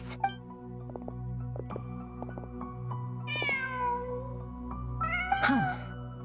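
A cat in the video game Genshin Impact lets out two drawn-out, wavering meows about two seconds apart, clear and close over a steady layer of game music.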